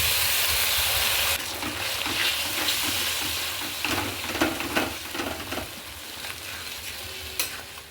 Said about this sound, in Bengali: পেঁয়াজটা একটু ভাজা ভাজা হতেই আমি একটা গোটা টমেটো কেটে রেখেছিলাম সেটা দিয়ে দিলাম